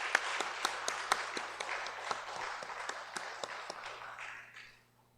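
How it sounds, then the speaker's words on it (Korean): A church congregation at a Sunday worship service applauds together, a moderate wash of many hands with a few sharp individual claps standing out, fading away over the last second. "우리 다시 한번 큰 박수로 축복할까요?"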